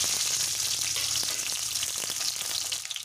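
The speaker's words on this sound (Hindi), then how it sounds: "अब तेल अच्छे से गर्म हो चुका है और इसमें मैं कटे हुए बैंगन फ्राई कर" Cut eggplant pieces frying in hot oil in a kadai, a dense, steady, hissing sizzle throughout with faint crackles, close and continuous, no talking.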